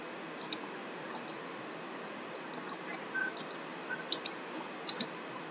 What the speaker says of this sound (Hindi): और इसके बाद फिर आप तो मेन कैम पे डबल क्लिक करना है।